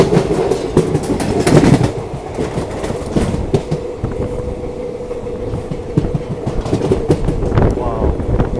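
A special passenger train bound for Bihar rounds a curve, its wheels clattering in an irregular clickety-clack over a steady rumble, with a faint squeal and some wind buffeting the microphone.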